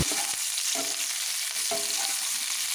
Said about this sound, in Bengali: ফুলকপিগুলো একটু ভেজে নেব